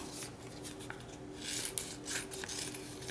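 Scissors snip through kinesiology tape, cutting it into strips, with a soft dry rasp and several quick crisp cuts, faint and close with no talking.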